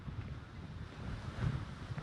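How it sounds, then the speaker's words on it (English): Storm surf crashing on the Texas coast, steady broadband roar of waves mixed with heavy wind buffeting the microphone, a louder surge near the middle, no voices. "Boy, we can see those crashing waves right behind you there."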